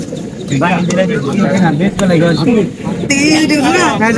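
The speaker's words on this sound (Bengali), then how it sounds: "দেখেন সিরাজি কবুতর দুইটা আছে ভিতরে।" Sirajee pigeons coo in soft, throaty rolling calls close by at a village market, repeating throughout while a person talks over them.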